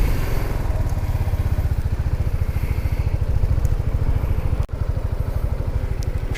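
A BMW C 400X scooter engine runs close by with a steady, rapid mechanical pulsing chug, holding an even idle-like rhythm with a brief dip in the middle.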